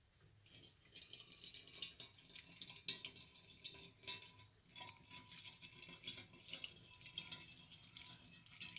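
Liquid poured from a jug into the large tank of a Dietz Jupiter lantern, a faint uneven trickle with gurgles and glugs rising and falling, recorded quietly with no talking.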